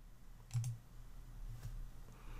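A mouse click on a spreadsheet cell in Excel: two faint, soft clicks in quick succession, then another light click a second later, all over a low background hum in a quiet room.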